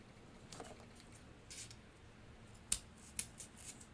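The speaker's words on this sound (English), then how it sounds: "we're going to cut 2 strips" Scissors cut strips for craft spider legs in a quiet room, giving a few faint, crisp snips, with two sharper cuts close together near the end.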